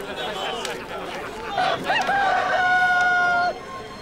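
A rooster crows once, a loud, close cock-a-doodle-doo rising and holding a long drawn-out final note, following a stretch of background sound with faint voices.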